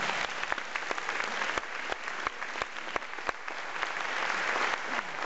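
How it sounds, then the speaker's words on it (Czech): Audience at a musical performance in Teplice claps steadily, a dense patter of many hands with a few sharper claps standing out, sustained throughout. "Tady ten člověk, zatleskejte."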